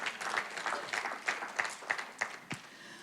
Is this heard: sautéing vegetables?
no